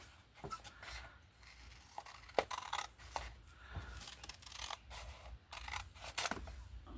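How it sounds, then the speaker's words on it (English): Scissors cut paper along drawn lines in soft, irregular snips and light rustling, quiet and close, with no talking. "the first thing I'm going to do is cut on those lines"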